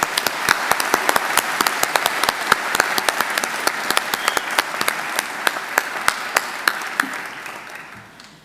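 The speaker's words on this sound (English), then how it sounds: "Please join me in giving them a round of applause." Graduation ceremony audience applauding, with many distinct claps in a steady rhythm close to the microphone, holding level before fading out toward the end.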